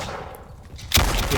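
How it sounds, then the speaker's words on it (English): A single loud pistol shot from an authentic recording in the video game Empires of Europe, a sudden sharp crack with a lingering echo after a brief quiet lead-in. "that's our pistol sound. So pretty cool. Also an authentic pistol recording."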